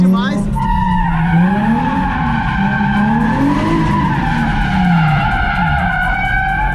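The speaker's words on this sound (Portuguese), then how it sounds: "Tipo, foi muita confiança porque o Renato sabe muito fazer drift, tá ligado?" A Nissan Z drifts with a loud, sustained tire squeal and skid running the whole time, rising and falling in pitch over the steady engine note, close and continuous.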